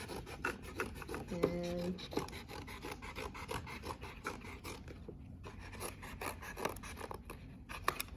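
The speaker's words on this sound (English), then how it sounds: "you're going to cut the side edges. And so you cut them off." Scissors rasping and crunching through the side edges of cardboard for a picture frame, a steady rough cutting texture with a few sharper snips, close and moderately quiet, with a brief spoken word.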